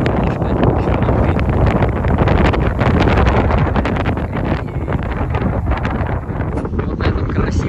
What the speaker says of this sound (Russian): Под этот сильнейший ветер